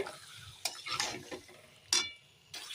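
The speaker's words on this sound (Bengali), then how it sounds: "এই মাংসটা আমি এখন ঢেলে দিলাম এখন ভালো করে নেড়ে দেব" Marinated meat stirred into fried masala in a pot for biryani: a soft sizzle with a few scraping, clattering stirs of a spoon against metal, close and alone.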